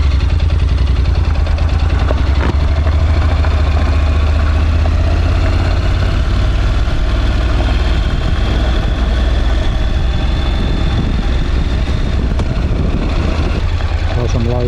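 Honda NC750X motorcycle engine running steadily at very low speed up a hill, a loud continuous low rumble with wind buffeting, no clear revving.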